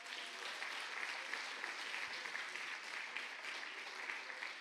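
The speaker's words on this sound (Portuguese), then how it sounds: "Vamos dar mais um aplauso ao Espírito Santo." A church congregation at a worship service breaks into steady applause, a broad wash of clapping that stays even and sustained for the whole stretch, somewhat distant and with no one speaking over it.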